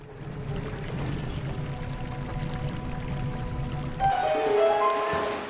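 Water rushes out after a lever is pulled in The Legend of Zelda: Twilight Princess HD, a steady loud pouring stream with a brighter splashing surge near the end.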